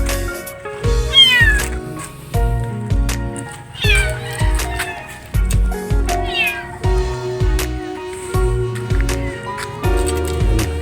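Several cats meowing repeatedly, rising and falling cries close by, over a steady backdrop of rhythmic music.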